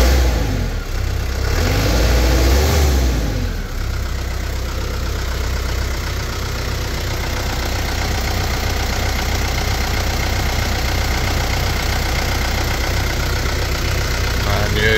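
A 1994 Mitsubishi Canter fire truck's diesel engine idles steadily after a cold start, with a brief rev early on before it settles into a constant, close, rumbling idle.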